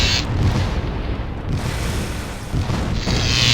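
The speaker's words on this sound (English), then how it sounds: "That's quite a bit of explosions over there." Space battle explosions in the Distant Worlds: Universe video game rumble as a continuous, loud series of deep booms and blasts with no voices over them.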